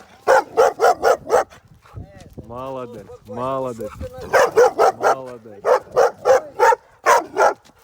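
A Labrador barks loudly and close by in quick repeated bursts, pausing while a person speaks, then barking again in rapid sharp volleys.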